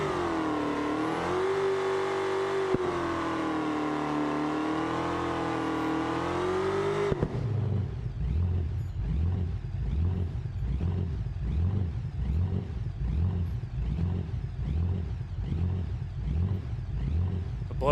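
Supercharged car engine in BeamNG with blower surge: a steady high revving whine for several seconds, then a lower, choppy pulsing surge that repeats rhythmically, loud and up close.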